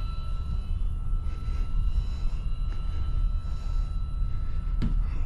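An E-Flite Corsair RC model plane comes in to land, its motor giving a steady, fairly loud drone that holds through the whole stretch with little change in level.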